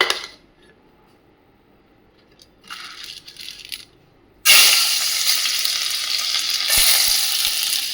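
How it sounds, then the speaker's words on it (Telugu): Tempering spices go into hot oil in a pan: a few quiet clinks and light rattles first, then a sudden loud burst of crackling sizzle that carries on strongly, with a brief stir partway through. "ఇవి తాలింపులు ఇందులో వేయాలండి."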